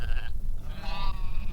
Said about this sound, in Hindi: दूर से कुछ भेड़ों के मिमियाने की हल्की सी आवाज हवा में तैर कर आ रही है।